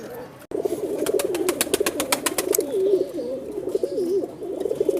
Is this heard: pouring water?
no